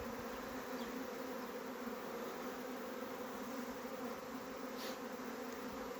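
A steady, dense buzzing of a honeybee swarm hums continuously throughout, with no voices.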